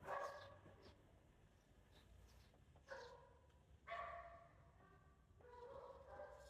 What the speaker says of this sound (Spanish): por ahí están escuchando perritos